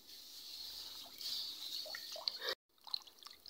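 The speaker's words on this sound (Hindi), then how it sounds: "और अजवाइन को हल्के हाथों से धोऊंगी।" Carom seeds (ajwain) being gently washed by hand in a pot of water: faint, soft swishing, dripping and trickling water nearby, with a brief silent pause before the sloshing resumes.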